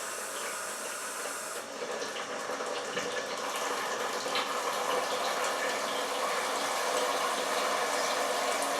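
Cold water pours from a long hose into a bucket, a steady broadband hissing rush that holds at an even level throughout, close by, with no talking.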